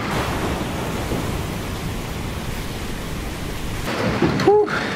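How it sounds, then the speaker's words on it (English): Broadband roar of wind and rain lashing down at sea during a small storm, with waves surging heavily near by and a brief creak toward the end. "We just got caught by a small storm, let's say."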